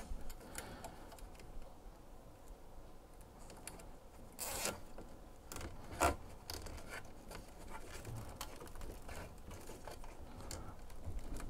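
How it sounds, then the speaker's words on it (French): A cable tie is slid through holes on a Longer LK1 / Alfawise U20 3D printer, giving faint, quiet ticking and zipper-like clicks with a couple of sharper snaps, alone against low background noise. "je vais glisser une attache dans les trous ici"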